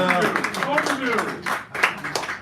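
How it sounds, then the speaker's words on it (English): An audience at a poetry reading night in a San Francisco café claps throughout, the applause loose and uneven, with someone talking over it. "Give Mark a round of applause."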